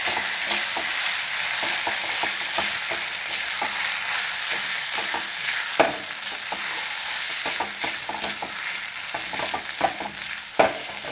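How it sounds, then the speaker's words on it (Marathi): Chopped ambadi (roselle) leaf vegetable with onion is stirred in a hot oiled pan, a steady frying sizzle broken by repeated scraping spoon strokes and a few sharper knocks against the pan. "छान ही भाजी आपण आता मिक्स करून घेऊया।"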